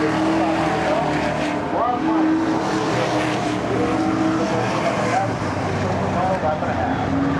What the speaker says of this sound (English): Right down the back stretch, closing that gap right on the rear bumper of the Landers